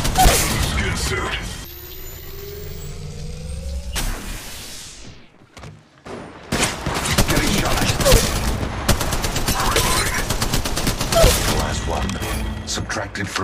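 Gunfire in Apex Legends Mobile: repeated loud shots and bursts of weapon fire, with mechanical clicks and impacts, under a game voice announcing lines.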